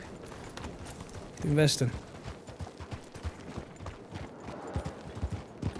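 Horse hooves clop steadily while riding in Red Dead Redemption 2, a rhythmic mid-level beat running the whole way, with someone talking over it and a brief louder noise early on.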